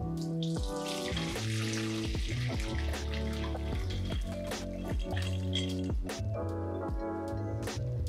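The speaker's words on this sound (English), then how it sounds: "And then we're going to strain our broth." Liquid from a pot of braised Korean short rib broth for galbi jjim pours steadily through a strainer, a continuous splashing, trickling rush close by with clinks and knocks of utensils under a hum of kitchen music.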